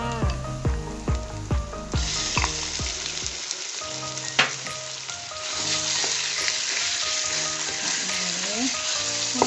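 Minced pork goes into a pan with garlic and stir-fries, breaking into a loud, dense sizzle that dips briefly, then returns as a steady hiss with occasional scraping stirs, after a few seconds of tonal background sound.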